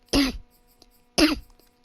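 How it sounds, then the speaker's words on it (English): Two sharp, loud coughs about a second apart from a person nearby while playing Madden 22, each a short harsh burst with a little throat rasp. "Sorry about the coughing, guys"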